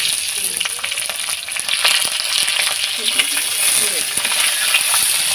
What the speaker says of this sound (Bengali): পেঁয়াজটা হালকা একটু নেড়ে চেড়ে নেবো